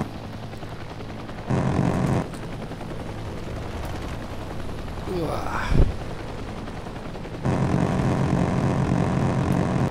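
Helicopter gunfire in the Heliborne combat game: dense, roaring bursts of gun and rotor noise that start abruptly, cut out, then return with a sharp crack midway, loud and close throughout.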